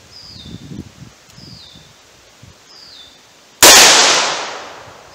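.357 Magnum pistol firing Barnes VOR-TX 140 gr ammunition: one loud, sharp gunshot with a ringing, slowly fading tail, preceded by quiet outdoor rustling and repeated faint electronic chirps.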